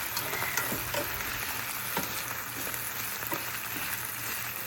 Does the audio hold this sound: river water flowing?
no